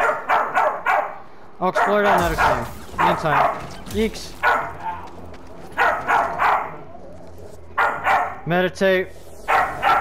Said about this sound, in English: And dogs are gonna continue barking.